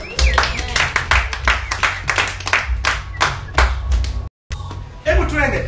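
A church congregation claps loudly for the Lord at a Bible study and prayer meeting, a dense run of rapid hand claps with voices mixed in, then a brief cut and more clapping and cheering.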